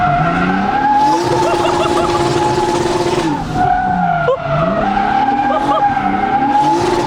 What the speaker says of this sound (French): Ah ouais, ça drift bien, hein.